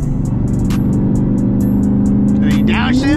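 Loud, steady engine drone of a tuned car cutting through highway traffic, with a run of sharp, rapid exhaust pops and crackles repeating over the rumble and a rising rev near the end.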